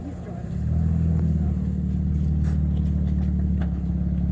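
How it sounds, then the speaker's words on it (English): A Nissan 350Z drift car rolls up nearby, its engine settling into a steady mid-pitched rumble after a short swell at the start, continuous and fairly loud. "All right, the car's pulling up now."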